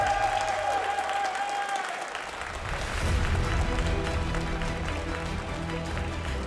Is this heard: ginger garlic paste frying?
no